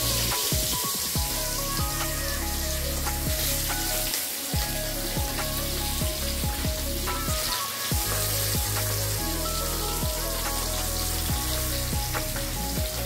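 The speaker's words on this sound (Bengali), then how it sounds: "এখানে আলু পটল হচ্ছে, আর এই দিকে তেল বসিয়ে দিয়েছি" Potatoes and pointed gourd sizzle in hot oil in a home kitchen, a steady loud frying hiss throughout with intermittent stirring clinks and scrapes, no voices.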